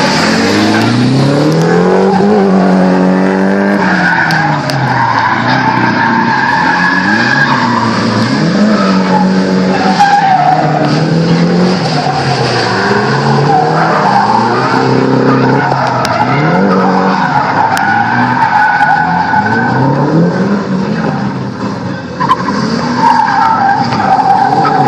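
Drift cars at Archerfield spin around in full circles, tyres squealing and skidding loudly and continuously over roaring, revving engines that rise and fall in waves.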